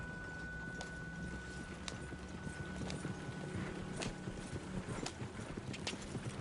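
Horse hooves clip-clop at a steady gallop in Red Dead Redemption 2, a continuous rhythmic drumming of close, moderately loud footfalls over a faint background hum.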